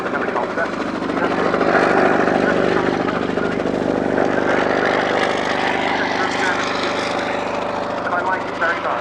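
A Bristol 171 Sycamore helicopter flies at the Yeovilton airshow, its steady engine and rotor drone loud and continuous for several seconds, with talk likely mixed underneath.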